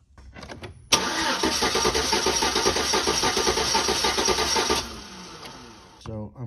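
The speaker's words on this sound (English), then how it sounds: "see if I can turn the motor over" A GMC Envoy Denali with a 5.3L V8 and a suspected stuck lifter cranks and catches, running loud and steady for a few seconds close by before cutting off abruptly.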